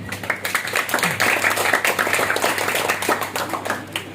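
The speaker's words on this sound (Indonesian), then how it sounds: "Tepuk tangan untuk perempuan." An audience at an Islamic religious lecture claps for women, a short burst of uneven clapping with distinct individual hand claps, fairly close and unaccompanied by talk.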